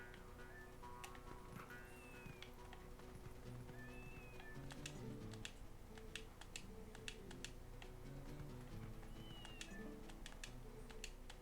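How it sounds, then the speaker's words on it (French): Short, high meows from a cat in the video game Zelda: Twilight Princess come at intervals, faint beneath steady game background sounds with a clopping rhythm. "Cinquième chat, miaou."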